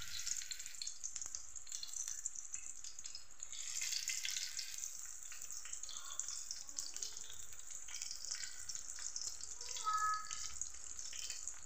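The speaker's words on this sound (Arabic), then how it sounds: "هيا البنات الزيت حمات لي، راح نبدا نقلي." Stuffed eggplant fries in hot oil in a pan, giving a steady, continuous sizzle and crackle throughout, close and moderately quiet, with no talking over it.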